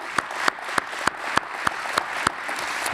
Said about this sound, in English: How about another big round of applause?